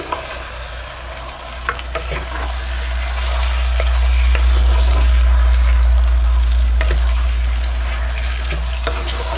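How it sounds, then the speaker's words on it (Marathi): A spoon stirs village-style chicken masala with chopped coriander in a clay pot over a wood-fired stove, giving close, wet scraping and squelching over a low sizzle that swells midway, with no talking. "आणि ह्यामध्ये आपण बारीक चिरलेला कोथिंबीर पण घालूया आणि चांगलं असं आपण आहे ना सगळं एकजीव करून घेऊया"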